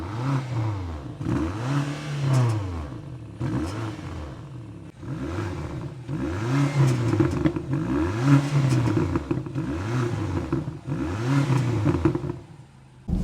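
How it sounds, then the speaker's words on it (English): A 2024 BMW XM Label Red, a 748 hp hybrid SUV, revs its engine repeatedly while stationary, about six rising and falling throttle blips in a steady rhythm, loud and close with no talking. "let's now get a sound check of this XM label and then take it out for a drive."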